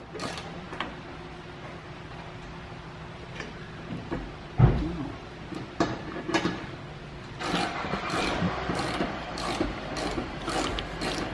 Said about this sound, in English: Krista is removing that bolt